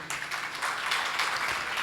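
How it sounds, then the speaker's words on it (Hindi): An audience applauds together during a Jain religious discourse, a dense, steady wash of clapping that holds at an even level throughout the brief moment, with no talking over it. "ताली बाद में भी बजते रहे"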